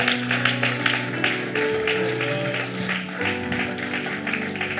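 Church congregation on its feet applauding, steady rhythmic clapping from many hands alongside sustained tones and music, fairly loud and continuous throughout.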